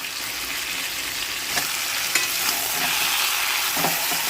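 Chicken pieces fry in a pan coated with ginger-garlic paste, sizzling steadily, with a few soft stirring scrapes and clinks now and then, close and fairly quiet.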